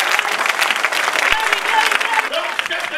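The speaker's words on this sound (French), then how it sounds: "On donne une acclamation au Seigneur." Church congregation clapping in acclamation during a French-language worship service, loud and continuous, with voices and shouts mixed into the applause.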